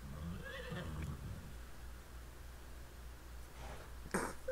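A horse in the video game The Witcher 3: Blood and Wine gives faint whinnies and snorts early on and a sharper neigh near the end, heard over a low steady hum with no talk.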